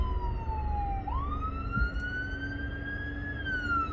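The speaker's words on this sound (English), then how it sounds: "this ambulance is running by." An ambulance siren sweeps past with a steady rising and falling wail and a clear pitch bend as it goes by, loud and close over a rumble of road traffic.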